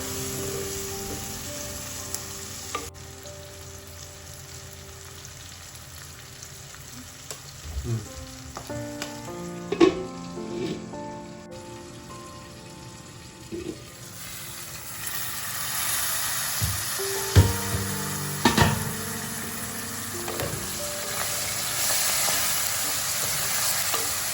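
Chopped tomatoes and onions sauté in a pan for a Kerala-style Malabar chicken curry, sizzling steadily throughout, with irregular stirring scrapes and a few sharper clatters of the spoon against the pan, close and without talk.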